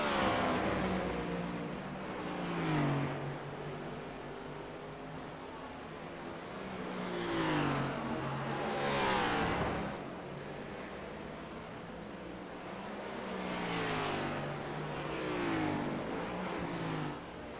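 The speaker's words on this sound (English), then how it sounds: "It's so weird just to kind of hear these track cars, the way they efficiently change their gears" Next Gen Cup Series sim race cars at Watkins Glen International roar past in waves, engines rising in pitch and dropping as gears change, several passes swelling and fading at a moderate distance.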